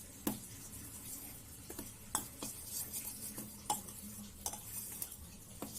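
Gram flour being stirred in a bowl with a spoon, giving light scraping and clinking of metal against the bowl, with a few sharper taps standing out in a quiet kitchen.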